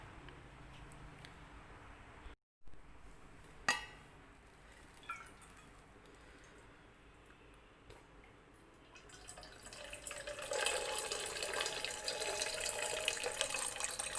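Water pours into a Yeti tumbler, filling it about halfway. A quiet stretch with a few small knocks gives way to a rising, steady splashing rush near the end.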